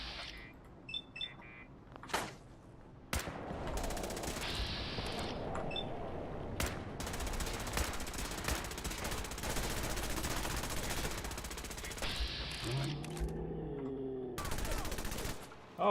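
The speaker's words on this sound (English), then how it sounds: "Oh, he's shooting too." Dense, sustained gunfire from the video game Fallout 4: rapid volleys of shots crackling almost nonstop, with a few sharp isolated cracks before the barrage and a short pause near the end, over in-game ambience.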